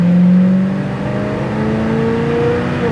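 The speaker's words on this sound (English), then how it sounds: "Sounds good too. I like his exhaust." A 1956 Chevy 210 engine hums steadily at a low idle, rising and falling slightly with a deep exhaust rumble, close by and loud.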